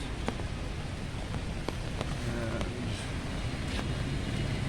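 Steady rain pours onto a street in Saigon near a temporary boat display by Book Street, a dense even hiss with scattered sharp drop clicks, plus a low rumble of city traffic in the background.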